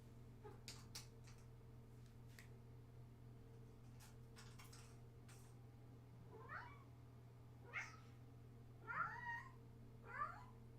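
A cat meows several times, rising, drawn-out cries spaced a second or so apart in the second half, faint and fairly close over a steady low hum, after a few soft clicks and taps.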